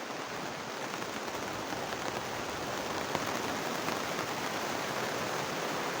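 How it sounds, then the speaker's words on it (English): Steady, dense rain patters and hisses on a greenhouse roof overhead, an even wash of drops with no voices. "as you can hear the rain on the top of the greenhouse"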